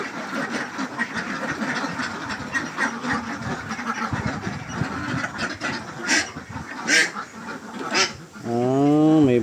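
Ducks on a farm in Malalag, Davao del Sur quack in a busy, close chorus, with a louder rising call at the end and someone talking under the noise.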